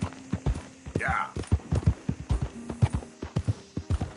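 Horse hooves in Red Dead Redemption 2 clip-clop in a quick, steady trotting rhythm, close and clear, with a short whinny-like squeal early on and a voice speaking over the hoofbeats.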